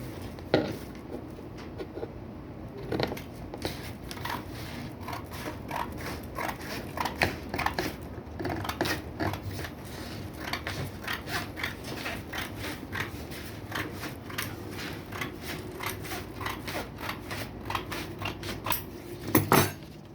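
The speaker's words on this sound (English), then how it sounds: "Now I'm gonna cut it." Scissors or a blade cutting a long strip of Bristol board, with a steady run of close crisp snips and scrapes going on for about twenty seconds with no talk.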